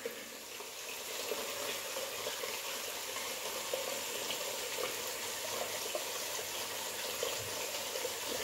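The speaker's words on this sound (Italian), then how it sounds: "Potete aggiungere sempre un po' di acqua alla volta." Water is added to a shaving bowl while lather is worked, making a continuous close, fizzy bubbling and crackling hiss with no pauses.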